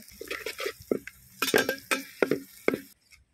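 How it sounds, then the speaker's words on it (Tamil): Onions fry until golden in a pan during outdoor village cooking, with a spoon scraping and clinking against the pan in quick bursts over a low sizzle before falling quiet. "இது நம்ம நல்லா பொன்னிறமாக கோல்டு கலரில் வர வரைக்கும் நம்ம நல்லா ஃப்ரை பண்ணிடுவோம்"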